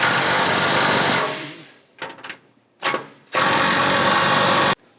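An impact wrench or power driver tightens skid plate bolts on a 2022+ third-gen Toyota Tundra, with two long, loud sustained bursts of whirring separated by a few brief rattling taps, close and with no talk.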